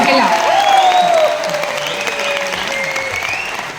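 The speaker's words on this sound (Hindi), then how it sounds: "थोड़ी जोरदार तालियां होनी चाहिए ना" Loud audience applause at an anniversary celebration event in Mumbai, sustained clapping mixed with a tonal musical line and some voices, strongest at the start and easing slightly.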